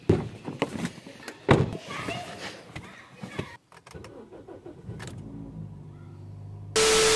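A car is readied with door and key clatter and an engine start amid people talking, then settles into a steady idle as it pulls away, ending in a loud burst of noise.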